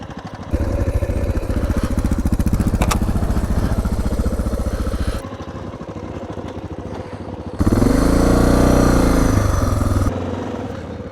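A Honda XR650L and a Suzuki DR650 ride on and off road, their engines a loud, close, throbbing drone that shifts in pitch and intensity between sections and surges into a harsher rev.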